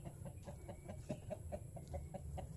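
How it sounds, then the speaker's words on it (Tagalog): A flock of chickens roams around a rural yard, clucking softly in quick, regular short calls. The calls sound faint and somewhat distant over low background noise. "Andito ang mga manok ni Kuya Nanding, naggagalaan dito."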